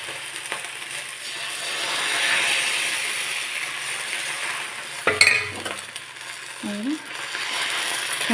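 A metal spatula scrapes and spreads pitha batter across a hot tawa, giving a low sizzle with a few sharp scraping strokes close by, followed by a brief clatter.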